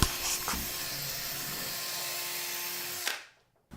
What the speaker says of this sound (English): I'm going to spin this impact driver around in here to ream it out a bit